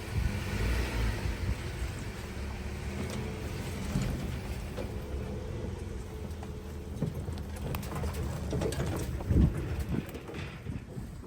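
Vehicle in four-wheel drive moving slowly on a wet off-grid property, with a steady low engine rumble, wind buffeting the microphone and clunks and knocks toward the end.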